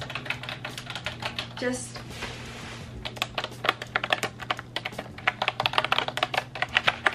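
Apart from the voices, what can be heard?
typing on a computer keyboard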